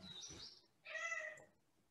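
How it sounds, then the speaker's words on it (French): A house cat meows with one rising-falling call in the middle, preceded by a softer, higher cry; close and fairly quiet, with no one talking. "Le chat, il est d'accord."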